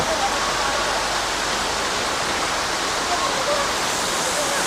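A staged Niagara Falls waterfall show at the Karkal festival in Udupi pours down as a dense, even hiss of falling water, loud and unbroken for the whole stretch.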